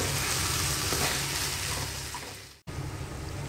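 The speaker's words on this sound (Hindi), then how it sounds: "इसको हम भूनते जाएंगे।" Chopped celery sizzling and frying in Schezwan sauce while being stirred, a steady close hiss that is cut off briefly near the end and then resumes.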